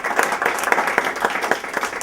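A lecture audience at an awards event claps loudly and close, giving dense, continuous applause through the whole short stretch.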